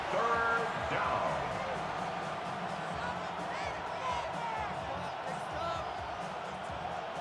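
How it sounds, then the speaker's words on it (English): Stadium crowd roar at a Buffalo Bills vs Philadelphia Eagles NFL video game night matchup on third down, a steady dense hum of many voices with scattered whoops, continuous and fairly loud throughout. "This crowd into it now as we get to 3rd down"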